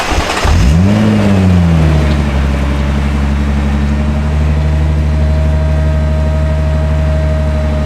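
A 2020 Nissan GT-R Nismo engine while driving, a loud steady drone after a quick rise in pitch, sustained and close with a constant hum, no voices.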